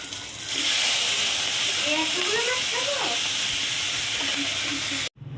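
Fish fry in a hot wok with a loud, continuous sizzle and hiss close by. A few faint, short tonal sounds appear partway through, and the sound cuts off abruptly near the end.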